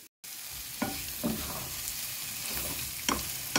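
Vegetables with amaranth stems fry with a steady sizzle in a pan while a spatula stirs them, giving a few louder scraping strokes at intervals, close and alone.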